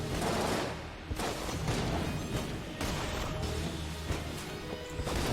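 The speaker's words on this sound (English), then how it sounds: "Yo, that explosion didn't hurt me." Explosion in the video game Enter the Gungeon: a dense, loud burst of crashing noise that stays rough and heavy for several seconds, full of thuds and clatter.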